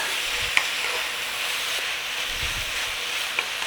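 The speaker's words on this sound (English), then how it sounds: "I'm just going to set this off for a couple of minutes and I'm going to chuck my garlic in" Garlic sizzles in a pan with Italian sausage meat and onions, a steady, close hiss of frying that runs throughout, with a couple of faint clicks.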